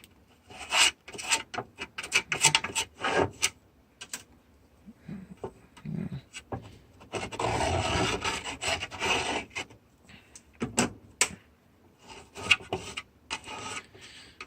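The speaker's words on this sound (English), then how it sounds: "Sometimes works better with a squeegee. Spread her out a bit." Repeated raspy scraping strokes, close by, as a squeegee drags thick filler across a surface of a Unimog 425 truck, with short pauses between passes and one longer smooth sweep.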